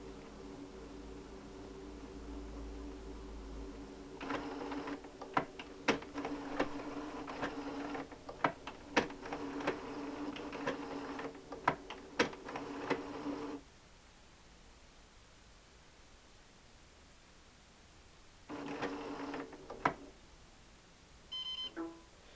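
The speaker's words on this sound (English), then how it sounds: "So I think what it's doing is it's calibrating the inks first." A Kodak printer calibrating its inks gives off a quiet run of mechanical whirring and clicking with sharp beeps, pauses, then starts a shorter burst of motor noise, with no talking.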